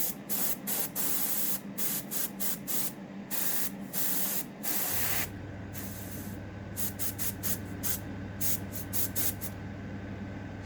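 An airbrush sprays paint into a spray booth in short repeated hissing bursts, then a steady extractor fan hum comes in and runs under the later bursts, all fairly quiet and close.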